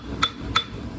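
Two sharp, ringing strikes of a hammer on a chisel set against carving stone, spaced about a third of a second apart, crisp and close with a quiet background.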